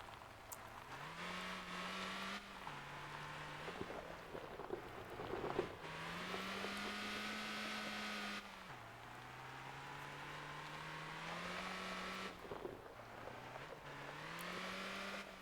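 Race cars in Motor Town, classic two-wheel-drive rally cars on off-road tires, drone steadily with rising engine pitch through repeated gear shifts, a loud continuous roar with brief dips between revs.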